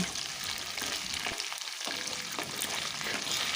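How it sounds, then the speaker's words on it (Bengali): Cauliflower florets for Manchurian fry in hot oil in a kadai, a steady, close, loud sizzle with soft stirring scrapes and no talk. "এখন ভালো করে নাড়াচাড়া করে একটু ভেজে নিচ্ছি"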